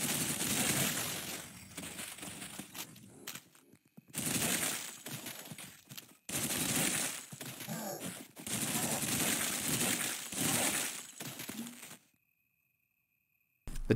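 A Sten submachine gun fires in the retro shooter Cultic, loud rapid bursts in several long volleys separated by brief pauses, ending in silence.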